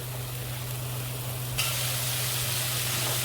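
Spices sizzle and crackle in hot oil as a tempering for Punjabi kadhi pakora, a steady close hiss that brightens partway through, with a low hum underneath.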